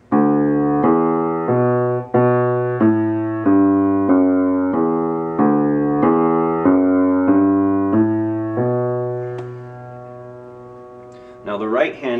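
Piano plays Carol of the Bells with the left hand entering on a low D beneath the repeating four-note figure, steady evenly spaced notes, close and clear, ending with a brief bit of talk.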